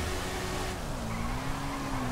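A motorcycle in the video game GTA 5 holds a steady engine drone at speed, with a continuous whine that dips and shifts in pitch. Tire noise runs underneath and nobody speaks.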